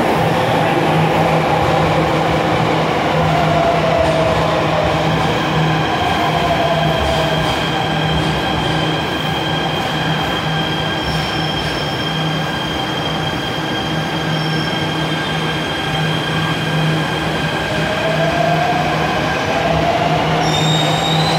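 A Jakarta MRT subway train at a Lebak Bulus–bound station, loud and continuous rail rumble with drawn-out wheel squeals and a steady tonal hum, no talk over it.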